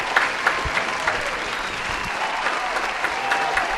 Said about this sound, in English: put your hands together for the one and only Ishmael Yusuf, a.k.a. @TheIssue